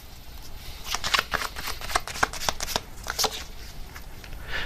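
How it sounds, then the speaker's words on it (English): Tarot cards shuffled by hand in a rapid series of crisp riffling flicks, close and fairly loud, continuing steadily throughout without speech. "let me get another card here"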